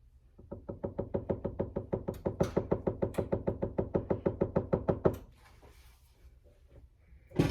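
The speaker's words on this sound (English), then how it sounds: "You just want to tap it so it'll be even all the way around." A pumpkin pie pan topped with pecans is tapped rapidly on a counter, about thirty quick, even knocks in a steady run that stops abruptly, followed by quiet room noise.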